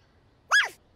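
A young girl imitating a big dog's bark with a single short, loud yelp, sharp and alone against a quiet room.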